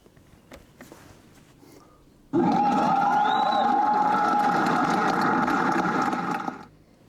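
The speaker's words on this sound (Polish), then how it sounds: "to takie oklaski, takie trochę dla mnie" Canned applause effect from the DJ mode of a Hisense Party Rocker One party speaker. It cuts in abruptly as a dense, loud crowd clapping and cheering and holds steady for about four seconds before fading out.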